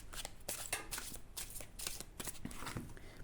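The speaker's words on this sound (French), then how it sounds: "Tiens, on va se tirer une petite cartounette." Someone shuffles a tarot deck by hand and then draws one card. The cards flutter and slap in quick repeated bursts, soft and near, with no talking.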